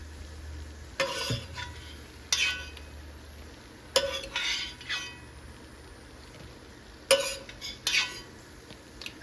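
Cashew nuts being lifted out of hot frying oil with a metal spoon, sharp clinks and scraping stirs against the pan recurring every second or two over a soft background sizzle.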